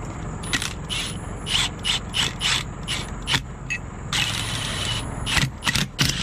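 A hand ratchet clicks in quick bursts while tightening bolts on a trailer disc brake conversion, close and distinct, with brief pauses between the strokes.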